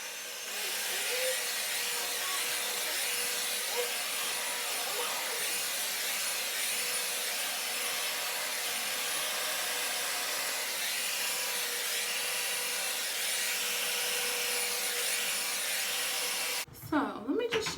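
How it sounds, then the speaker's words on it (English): A hair dryer blows hair with a steady, loud, broadband whoosh that holds for most of the stretch and then cuts out abruptly near the end. "While I'm in the middle of blow drying my hair, this thing just breaks."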